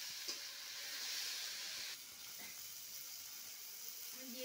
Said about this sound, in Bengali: লবণ দিয়ে ভালো করে এটাকে মশলাটাকে কষিয়ে নিচ্ছি